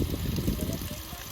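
Water rushing along a hiking trail to Gergeti in Kazbegi, Georgia, a loud, close, continuous gushing flow with no voices over it.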